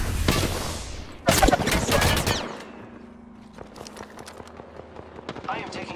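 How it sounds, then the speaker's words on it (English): Bursts of automatic gunfire strike the player in Apex Legends, with a sharp loud volley in the middle and scattered lighter shots after, while a game voice speaks over the opening. "I am taking fire."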